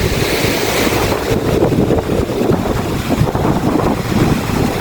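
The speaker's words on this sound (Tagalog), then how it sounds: "Tapos yung dagat po nagngangalit kasi nga may bagyo." Rough sea during a typhoon on the Philippine coast: continuous loud roar of pounding waves and gusting wind buffeting the microphone, dense and unbroken throughout, with no speech.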